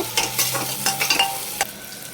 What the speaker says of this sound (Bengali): এবার আদা আর রসুনটা দিয়ে দেব দিয়ে আর কিছুক্ষণ ভেজে নেব